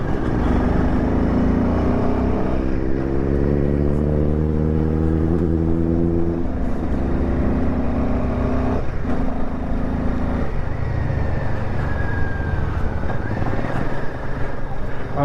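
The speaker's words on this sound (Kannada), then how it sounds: "ಏನು ಆಫ್ ರೋಡಲ್ಲಿ ಸೂಪರ್ ಬೈಕು." An off-road motorbike revs and labours over rough ground, its engine note rising and falling in stepped harmonics, loud and close, with a voice talking over it.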